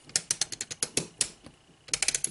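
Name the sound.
monopod ratcheting adjustment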